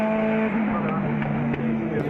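A GT race car overtakes around the outside at Fuji International Speedway, its engine droning steadily with a shift of pitch partway through, heard under continuous commentary.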